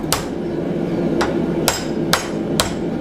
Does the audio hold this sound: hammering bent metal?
yes